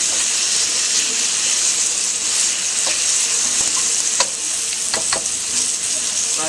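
Loud continuous sizzling of meat stir-frying in a hot wok, with occasional scraping and clinks of a utensil stirring, close up and without speech.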